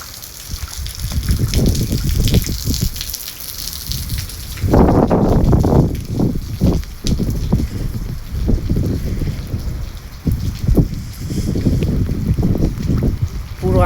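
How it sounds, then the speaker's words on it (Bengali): Strong gusts of wind in a thunderstorm under a cloud-covered sky roar and buffet the microphone in loud, uneven surges, with rain and a faint voice mixed in. "আর অনেক জোরে বাতাস হচ্ছে"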